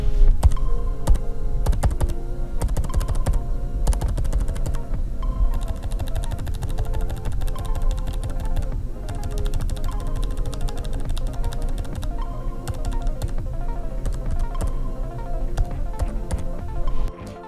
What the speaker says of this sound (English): put the microphone down by the keyboard so you guys can hear the key presses